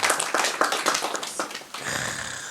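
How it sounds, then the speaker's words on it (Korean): A small congregation at a church prayer meeting claps in a quick, close, uneven burst of hand claps that fades after a couple of seconds. "우리 박수 한번 쳐줘요."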